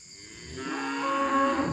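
A cow lets out a single long, drawn-out moo that swells and then fades during cattle vaccination and blood draws on a farm.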